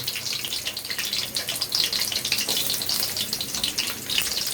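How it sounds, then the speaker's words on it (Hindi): Ghee crackling in a hot kadhai over a high flame, a steady, dense hiss with fine popping that carries through without pause and without any voice. "घी गर्म हो गया, आपको कड़कड़ाहट जो है वो महसूस हो रही होगी। इसको आपने हाई फ्लेम पर जो है वो रखना है।"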